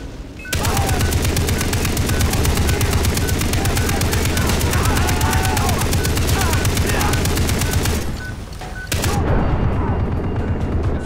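Rapid, sustained machine-gun fire from a mounted turret in the video game Far Cry 3, a dense loud rattle lasting about eight seconds, breaking off briefly, then resuming.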